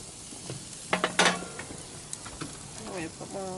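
Shrimp sizzle in a frying pan with a soft steady hiss, broken by a few clanks and scrapes of a utensil against the pan, with brief voices heard in the background.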